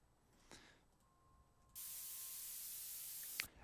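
A steady, even hiss of Gaussian dither noise switches on abruptly and holds at constant level for a couple of seconds, following a quieter, murky stretch.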